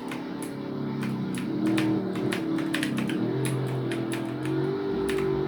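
Computer keyboard keys clatter in quick irregular bursts of taps during a Roblox game, close and fairly quiet over a low steady hum of game audio.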